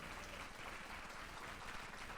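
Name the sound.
church congregation applauding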